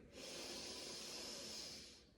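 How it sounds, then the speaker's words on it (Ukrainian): A single long, soft inhale through the nose during seated yoga breathing, a smooth airy hiss that swells and then fades near the end, close and quiet with no talking. "Дихаємо через ніс, вдих"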